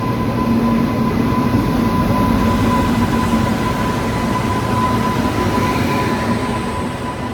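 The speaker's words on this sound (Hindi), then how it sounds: "ये है WAG-9 WAG-9 गुड्स लोकोमोटिव। लगता है इसकी ड्यूटी का टाइम आ गया, तो ये अपनी ड्यूटी पर जाते हुए।" A WAG-9 electric goods locomotive rolls past, producing a loud, close, continuous rail rumble with a faint steady tonal whine and light wheel squeal, holding steady before easing slightly toward the end.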